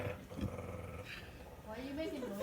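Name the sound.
person imitating a growl for a butterfly puppet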